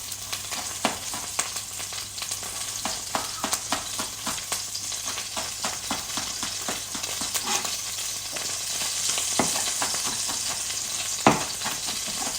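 Onions, garlic and chopped chilli frying in a pan, a steady close sizzle broken by frequent sharp scraping stirs and clinks, growing louder and hissier toward the end with one louder knock.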